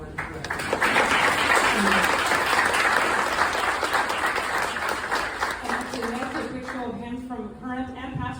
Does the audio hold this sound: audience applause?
yes